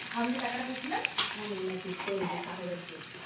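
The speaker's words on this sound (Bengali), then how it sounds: "এতে রসুন, কাঁচা লঙ্কা যেগুলো ছিঁড়ে রাখা হয়েছিল, আদা ঝিরি করা হয়েছিল, ওই তেলেতেই ভাজতে হবে" Garlic, green chillies and shredded ginger sizzle in hot oil for Nepali chicken pickle, a close crackling fry with spatula stirs and a sharp clatter as they go in.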